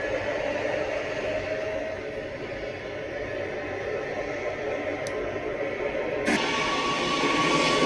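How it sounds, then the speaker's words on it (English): An ATR 42 turboprop on flight 511 to Butler, Pennsylvania, at Lexington airport, with a steady, droning engine rumble at moderate distance that swells slightly toward the end. "flight 511, ATR 42, en route to Butler, Pennsylvania."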